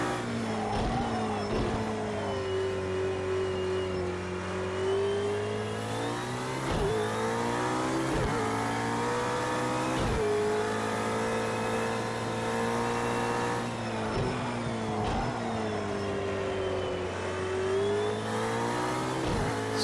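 A road car's engine revs in the Project CARS 2 racing game, a steady loud drone with rising and falling pitch through gear changes and short dips between shifts.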